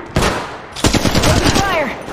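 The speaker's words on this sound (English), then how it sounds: "Shots fired at me." Weapon fire in the battle royale game Apex Legends Mobile, with a single shot followed by a dense, loud stretch of rapid overlapping gunshots that runs to the end.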